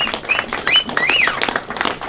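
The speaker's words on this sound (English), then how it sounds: "Give yourself a round of applause" An audience at an enduro fundraiser event claps and cheers in a short, lively burst, with whoops riding over the steady clatter of hands.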